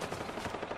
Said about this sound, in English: They shooting each other